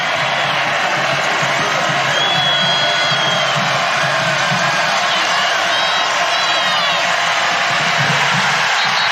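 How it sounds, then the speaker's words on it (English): A college football stadium crowd at Marshall versus Bowling Green roars and cheers after a first down, a loud dense wall of voices with whoops and shouts, steady throughout. "The crowd loves it."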